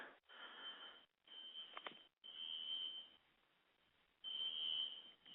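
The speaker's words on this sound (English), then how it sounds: "I'm hearing this goddamn alarm out here" An alarm sounds outdoors during a live radio broadcast, a sharp repeating electronic beep tone in long bursts with short gaps, fairly faint as if heard from a distance, with no talking.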